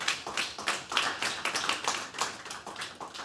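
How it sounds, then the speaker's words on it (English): Audience clapping at a diamond-industry conference presentation, a steady patter of many hands that lasts about three seconds with no voices over it. "let's give them a big round of applause"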